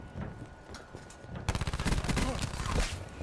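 Shotgun blasts in a Call of Duty team deathmatch, fired in a quick rapid burst in the second half after quieter game sounds, with a player's voice talking over the action.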